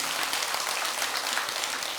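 An audience of Buddhist worshippers at a Beomeosa temple dharma service applauds with a steady, even patter of many hands clapping, moderately quiet and sustained without a break.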